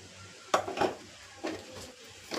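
Beans, cabbage and capsicum stirred in a pan, a few soft scraping knocks of a spoon against the metal in an irregular rhythm, quiet and close with no talking.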